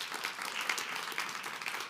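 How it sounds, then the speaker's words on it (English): Audience applause at a leadership summit, a steady dense patter of many hands clapping, fairly faint and distant, continuing evenly for the whole stretch with no talk over it. "I want to get another really big round of applause for all of these speakers"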